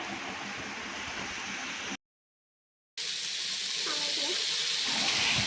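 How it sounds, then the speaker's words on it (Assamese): Onions frying in a pan while chowmein is being made, a steady broadband sizzle that runs on, cuts out briefly, then resumes a little louder and brighter. "পিঁয়াজখিনি দি আকৌ অলপমান ভাজি লওঁ"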